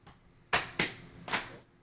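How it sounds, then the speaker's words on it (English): Three sharp, loud knocks and clacks from a futon frame being folded down, close by, the second following quickly after the first and the third a moment later, with no talk. "I'm just folding my futon down"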